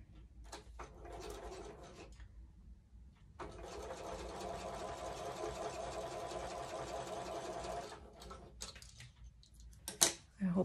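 A sewing machine stitches quilt pieces of half-square triangles in bursts, a close, steady whirring run of several seconds framed by shorter starts and stops, with a person chatting between the stretches of sewing.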